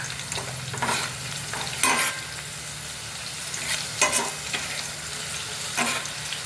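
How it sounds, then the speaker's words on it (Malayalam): Food for a children's lunch box sizzles steadily in a frying pan, with a few louder scraping stirs of a spatula cutting through the constant close frying hiss. "ഒന്ന് ഇളക്കി കൊടുക്കുക മറിച്ചിടാറായിട്ടില്ല"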